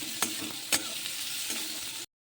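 Onions fry in a pan for an egg curry, a steady sizzle broken by three or four sharp spatula scrapes as they are stirred, close and moderately loud, cutting off abruptly before the end.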